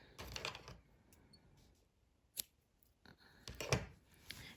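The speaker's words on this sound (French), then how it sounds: "donc là, je vais pouvoir couper." Scissors snip yarn on a crocheted bag in a quiet room: a few crisp, close cuts in small clusters, with short silences between them.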